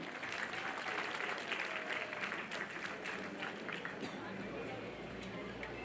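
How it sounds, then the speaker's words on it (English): Continuous audience applause fills a hall at a college graduation day ceremony in Bangalore, a dense steady clatter of many hands clapping that keeps going without pause. "let us welcome the respected dignitaries with a big round of applause once again"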